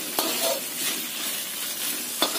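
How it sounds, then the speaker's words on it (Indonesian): Ground shrimp paste is stir-fried in a pan with lime leaves, bay leaves and galangal. It sizzles loudly and steadily, with brief scraping stirs of a utensil against the pan and no talk. "Tumis sampai tercium bau enak dari udang yang kita ulek tadi."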